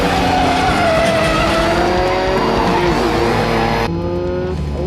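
Skid-plate race cars circling a track together, engines roaring loud and continuous with tyre skidding and squeal through the turns, dense and close throughout.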